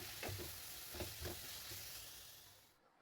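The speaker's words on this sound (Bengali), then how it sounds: "এখন দিয়ে দিচ্ছি বরবটি আর চিচিঙ্গা। তো এটাও কিছুক্ষণ আমি ভেজে নিচ্ছি।" Yardlong beans and snake gourd sizzle in an oiled pan for a chow mein stir-fry, a steady broadband hiss with a few stirring scrapes near the start, fading toward the end.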